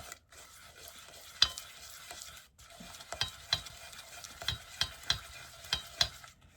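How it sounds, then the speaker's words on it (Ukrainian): Custard cream being stirred smooth in a pot to work out lumps, with a spoon scraping in a run of sharp, near clicks and scrapes over a quiet background, pausing briefly once. "Так хорошенько його розтерти, щоб не було комочків."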